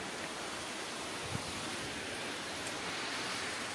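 Constant broad roar of the Gumar Mundi waterfall fills the scene, steady and hissing without pauses.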